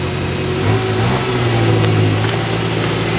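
BMW M440 Gran Coupe pulling away, a steady mid-pitched engine note rising as it accelerates off, fairly close and continuous with no talk.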